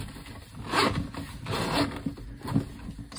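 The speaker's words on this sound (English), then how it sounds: "it's also got a zip pocket along the interior of the bag." Zipper on the interior zip pocket of a 2001 British Tan Coach Court bag, pulled in a few short close scratchy strokes with brief pauses between them.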